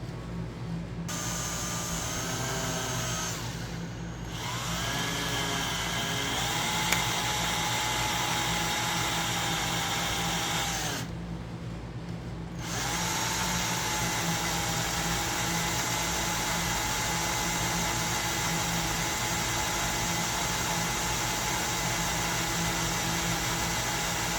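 Drill bit grinding into seized, broken bolts on a 2005 Toyota Tundra, a steady close whine that runs nearly throughout and stops briefly twice.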